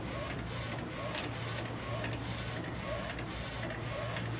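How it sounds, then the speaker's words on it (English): A DTG printer laying down a white ink underbase on a dark T-shirt: a steady mechanical whir with rapid, regular print-head passes, running continuously at moderate volume with no talk. "the printer is going to start first by printing the white underbase"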